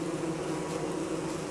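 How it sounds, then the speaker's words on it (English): Bees in the Don't Starve video game give off a steady, droning buzz as they give chase, an unbroken insect hum at moderate volume with no voices. "Do the bees stop chasing me at any point?"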